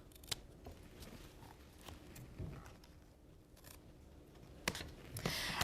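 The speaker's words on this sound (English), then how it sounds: "I'm going to snip snip this excess paper off" Scissors snip through excess embossed paper wrapped around a plain book cover, with a few sharp, separate cuts spaced irregularly over quiet room tone, close and fairly soft.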